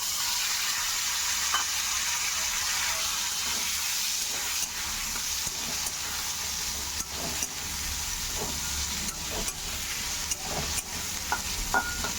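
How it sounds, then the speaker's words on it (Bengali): Potatoes and onions fry in a pan with nigella seeds and chopped garlic, giving a loud, continuous close-up sizzle broken by scraping stirs and small clicks, with no talking. "এটা আবার একটু ভাজা ভাজা হয়ে যাবে।"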